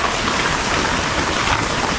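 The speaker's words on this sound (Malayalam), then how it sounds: "പുറത്ത് നല്ല മഴ കേട്ടപ്പോൾ അത്യാവശ്യം നല്ല മഴ പെയ്യുന്നുണ്ട്" Heavy rain pours down outside a small roadside tea shop near Paloor Kotta waterfall, a dense, even hiss of drops drumming on surfaces, loud and unbroken, with no talking.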